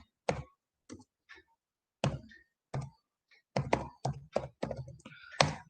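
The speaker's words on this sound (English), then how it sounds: "We'll type set R host space the IP address" Typing on a computer keyboard while entering a network host setting, with bursts of sharp clustered key clicks separated by short pauses, close and fairly clear, with no speech.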